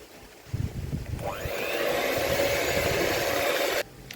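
An electric mixer whirs as it beats cake batter with a little baking powder, starting with thumps and then settling into a steady close hum for a few seconds before cutting off.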